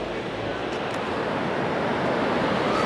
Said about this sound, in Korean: 그리고 드디어 마주한 나야가라 폭포의 실체.